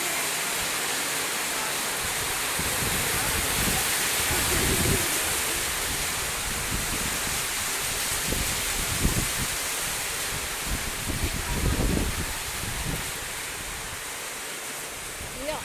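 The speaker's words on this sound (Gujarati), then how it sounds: "વરસાદ તૂટી પડ્યો" Heavy rain pours down steadily across a guava orchard, a dense constant hiss with occasional louder gusts and patters, and a faint voice at times beneath it.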